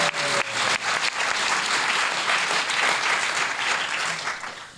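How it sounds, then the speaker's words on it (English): Audience at the Winchester Science Festival, Winchester Discovery Centre, claps in a sustained, dense burst of applause that holds steady and then tapers near the end, with faint voices underneath. "Give yourselves a big round of applause."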